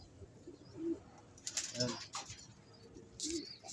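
Pigeons in a rooftop trapping system give soft, low coos, one near the start and another near the end, between faint rustling. A short spoken word cuts in briefly.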